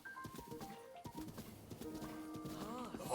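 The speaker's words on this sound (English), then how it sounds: "The horse doesn't want to go up the hill." A horse in the Breath of the Wild video game clip-clops steadily with faint hoof falls, mixed with a neigh-like whinny and game music, all quiet and busy.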